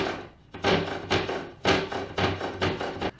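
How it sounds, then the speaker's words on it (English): A hammer strikes a flathead screwdriver to cut a notch in wood for a birdhouse, giving about six sharp, close knocks at an uneven pace. There is a short gap after the first blow. "I'm going to create a notch with this flathead and hammer."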